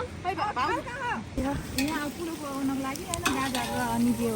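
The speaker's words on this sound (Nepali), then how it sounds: "नरिवल फ्राई हुँदैछ।" Coconut frying in a pan at a picnic, a steady sizzle with stirring scrapes under several people chatting nearby.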